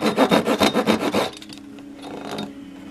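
A hand saw cuts fret marks into a wooden cigar box guitar neck, giving about eight quick, rhythmic back-and-forth strokes close up before stopping into quiet shop noise.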